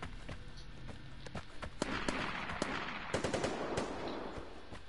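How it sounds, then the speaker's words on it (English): Bursts of gunfire from the video game Vigor, scattered sharp shots and short automatic volleys over a steady game ambience, moderately loud and without talk. "Hey yo, gunshots."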